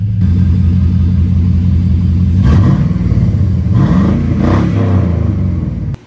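A 24-year-old Chevrolet Silverado pickup engine rumbles loudly nearby and revs up twice, the pitch rising and falling before settling back to a steady idle.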